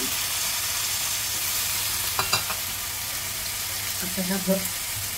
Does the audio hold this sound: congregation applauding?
no